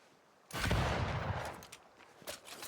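A single sharp, loud sniper rifle shot in Banishers: Ghosts of New Eden bursts out, then rolls into a long rumbling tail with faint scattered clicks and a smaller report near the end.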